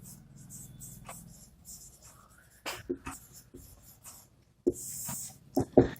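Pen or marker scratching across a board while a chemistry mechanism is written out, with short strokes and taps in an irregular rhythm, close and fairly quiet, with no speech.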